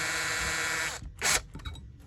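A drill whirs on a slow setting while twisting tie wire tight, one steady motor run that stops abruptly, followed by a short burst and faint handling noises.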